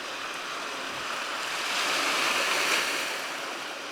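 Sea waves wash close by at a wild off-grid camp spot on the coast, a continuous surging roar that swells louder in the middle then eases, with some wind rumble.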